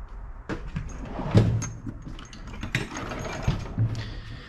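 Metal clicking and ratcheting as an AN nut is worked onto the end of braided hose by hand, irregular close mechanical clatter with light scraping, no talking.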